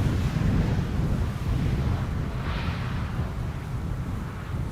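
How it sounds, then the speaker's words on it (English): Strong gusty wind buffets an outdoor microphone at a runway at Amsterdam Schiphol, producing a loud, steady low roar that surges and eases slightly throughout, with no voices. "The wind is actually making it lean."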